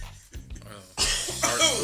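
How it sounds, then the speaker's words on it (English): One person coughs a couple of times during a casual podcast chat, up close, with faint voices and shuffling around it. "I had a cough, y'all."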